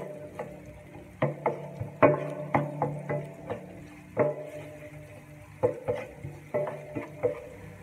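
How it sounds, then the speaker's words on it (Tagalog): Onions being sautéed in a pan for corned beef with eggs, heard as a soft sizzle under repeated sharp scrapes and taps of a spatula against the pan at an irregular pace, close up and without talk. "Tapos lalagay ko na po yung sibuyas. Ay sasotohin ko lang."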